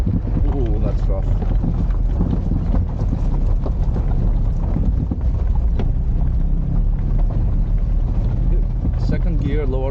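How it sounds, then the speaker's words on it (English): A classic Mini car crawls in second gear at low revs over a rough mountain road in Greece, giving a dense, steady low rumble with jolts, rattles and wind buffeting throughout. "Second gear, low RPM. Looks like it has enough torque to go about."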